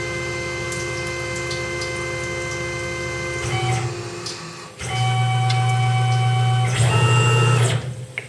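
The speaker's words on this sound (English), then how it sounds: "That's going to ream that hole to an undersized number." Machine reamer cutting an undersized hole through a knife blade held in a fixture: a steady whirring hum with a constant tonal whine, which swells louder partway through and keeps running close up, with no talk.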